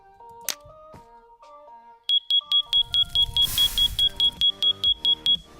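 A fire alarm block from a Minecraft furniture mod, set off with flint and steel, gives a rapid run of loud, evenly spaced high beeps, heard after a few short game blips and over a crackling fire.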